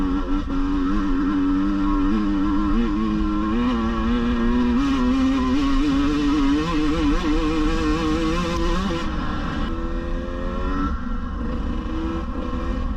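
A 2022 KTM 150 TPI dirt bike engine drones steadily while riding, its pitch wavering up and down as the throttle shifts, close and continuous throughout.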